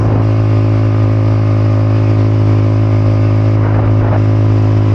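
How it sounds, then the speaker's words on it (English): A motor engine is run at full throttle, producing a loud, close, sustained droning roar with steady tones and slight surges near the end. "That is full throttle, folks."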